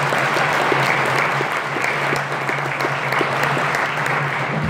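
Steady applause from an audience at a Renew Saskatchewan event, a continuous even roar of many hands clapping with no break, fairly close and moderately loud.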